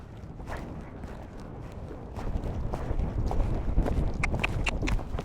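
A horse walks on a cross-country schooling course, its hooves making a steady soft clip-clop that grows louder and more distinct toward the end, with some wind noise.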